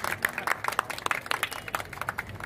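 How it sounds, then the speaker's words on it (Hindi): Scattered applause from a small group in a courtroom during a mediation campaign session, sparse irregular claps at moderate distance with a low murmur beneath. "तो इनके लिए भी तालियां होनी चाहिए"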